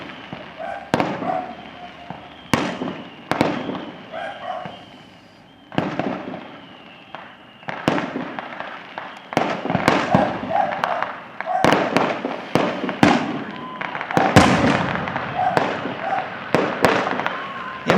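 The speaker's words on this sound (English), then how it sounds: "enjoy the fireworks over La Paz" Fireworks explode over La Paz, a series of sharp booms and crackling bursts at irregular intervals, some loud and close, others more distant, with a person talking in between and a faint crowd murmur.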